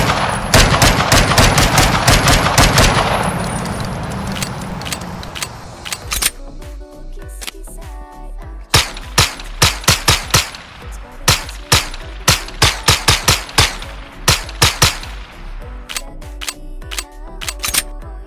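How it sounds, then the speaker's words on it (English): Glock 19C Remake pistol fired in a Roblox gun game: a dense burst of rapid shots at first, then a long run of sharp, separate cracks in quick rhythm, loud and close, with no voices. "Glock 19C Remake."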